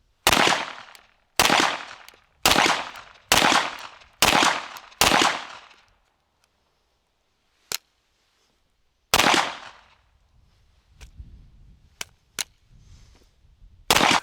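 A CZ-75 pistol fires during a mud torture test, six sharp shots in a quick even rhythm, then a lone crack after a pause, another shot, and a few small metallic clicks and handling noises.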